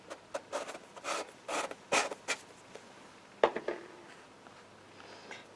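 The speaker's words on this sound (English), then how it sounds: "I'm just going to wipe it off." A paper towel wipes purple ink off a craft stencil in a series of short, close rubbing swipes with brief pauses between strokes, quiet and without talk.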